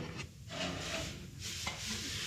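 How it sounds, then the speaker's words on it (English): Coarse 40 grit sandpaper rasps against a vintage steel boat hull in close, continuous back-and-forth strokes, a gritty scratching texture with slight rhythmic swells and no talking. "This is the 40 grit sandpaper."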